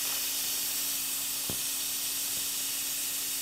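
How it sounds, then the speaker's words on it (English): Steam hisses steadily from an Instant Pot pressure cooker's pressure release during a chicken and shrimp carbonara cook. The close, continuous rush holds unchanged throughout, with one soft click partway through. "you can go ahead and release the pressure on your Instant Pot"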